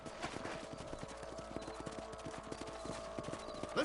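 Horse hooves clip-clop at a steady trotting rhythm in the Western video game Red Dead Redemption, faint and continuous throughout.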